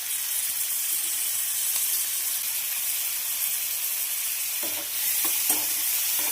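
Chopped onion and tomato sauté in hot oil for a veg pizza topping, giving off a loud, continuous sizzling hiss with a few soft stirring scrapes near the end, close up and without speech.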